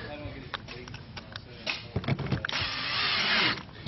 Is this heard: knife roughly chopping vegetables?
no